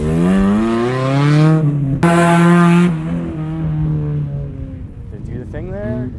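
Cheap track-ready race car driving a lap, engine droning loudly and close with a rising and falling pitch as it accelerates and shifts, heard under voices.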